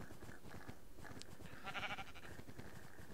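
A sheep bleating in the Minecraft video game, one short bleat in the middle over steady game background sounds.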